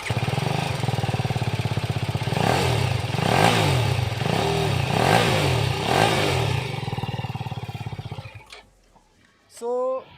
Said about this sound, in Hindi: मैं आपको दिखा देता हूँ एग्जैक्टली इसका क्या है एग्जॉस्ट नोट, आप सुन लो